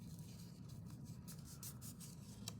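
An index card being folded, its stiff paper giving a few soft, crisp rustles and rubs against a steady low background hum.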